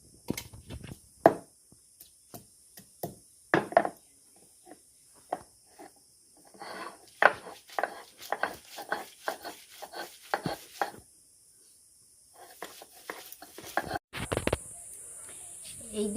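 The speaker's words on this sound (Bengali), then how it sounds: "এই দেখুন বন্ধুরা, চিংড়ি মাছটা বেশ ভালো করে বেটে নিলাম।" Repeated rough thuds and grinding scrapes of fried shrimp and garlic being crushed on a shil-nora grinding stone, close and irregular, with brief pauses between strokes and a steady high hiss in the background.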